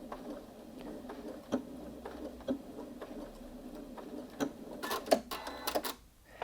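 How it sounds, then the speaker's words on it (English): A Janome Memory Craft 8200QCP SE sewing machine runs a target stitch with a soft, faint, steady patter, then ends in a quick burst of sharper mechanical clicks as it trims the threads on its own. "you can see there it's sewn that target stitch and snipped the threads for me"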